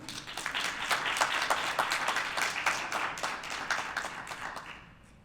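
Audience clapping at a Brockton Board of Health fair and symposium, a steady moderate round of applause from many hands that fades out near the end.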